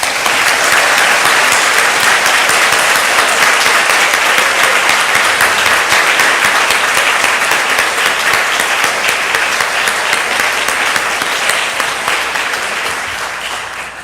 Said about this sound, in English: And now is clapping.